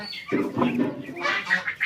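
A hen gives a few close, fairly loud clucks among poultry, with other fowl calls layered over them and no one talking.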